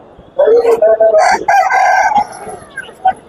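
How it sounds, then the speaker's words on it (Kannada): A rooster crows loudly and close by among chickens of several breeds at the Dharwad agricultural fair, one long strained call followed by a few shorter clucks. "ಇಲ್ಲಿ ಬೇರೆ ಬೇರೆ ತಳಿಯ ಕೋಳಿಗಳು ಸಿಗ್ತವೆ"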